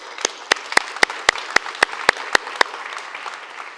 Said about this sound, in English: this is where a round of applause goes